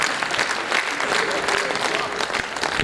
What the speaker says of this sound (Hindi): एक बार जोरदार तालियां बजाकर स्वागत कर दें